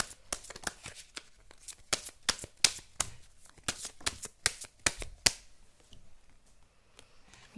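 Tarot cards being shuffled by hand, a run of crisp riffling bursts and flicks in an irregular rhythm for about five seconds, then near silence with a few faint taps.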